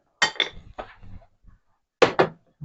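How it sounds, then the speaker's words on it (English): Ice cubes tip out of a cup into a kitchen sink, clattering in two bursts of sharp clinks and knocks with quiet gaps between, close and clear with no talk. "I'm going to pour this out. Just take the ice cubes out."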